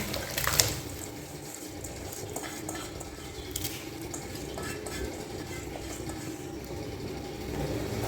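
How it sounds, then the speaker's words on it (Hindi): Steady running, bubbling water noise fills the whole stretch, like a pot at a rolling boil, with a faint clink near the start. "देखो पानी उबलने लग गया है"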